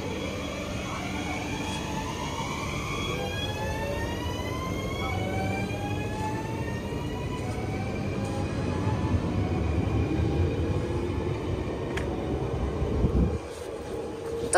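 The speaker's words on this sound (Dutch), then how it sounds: "Dan gaat deze trein zo meteen vertrekken." A train pulls away from a station platform, its rising tonal motor whine climbing steadily over a continuous rolling rumble, loud and close, with a brief drop near the end.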